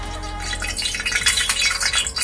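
Ghee poured into a preheated pan, a soft liquid splash followed by a faint sizzle and crackle that builds over a couple of seconds.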